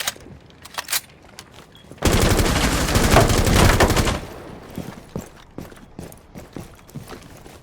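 Gunfire in the tactical shooter Rainbow Six Siege: a sustained automatic burst lasting about two seconds mid-clip, framed by scattered single shots, clicks and footstep-like taps before and after, loud and close.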